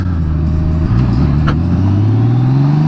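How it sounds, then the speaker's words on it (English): A motorcycle engine hums steadily and rises in pitch as it accelerates, loud and close, with a low rumbling drone throughout. "We ride our motorcycles."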